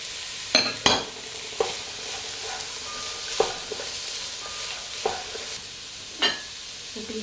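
Peas tipped into beef mince frying in a pan for shepherd's pie, then stirred, giving a soft steady sizzle broken by several sharp spoon scrapes and clacks, close and alone without talk.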